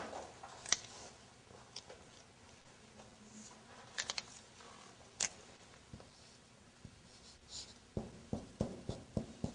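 Writing by hand, a soft series of faint scratchy taps and clicks from a pen on a surface, quiet and irregular, growing busier toward the end.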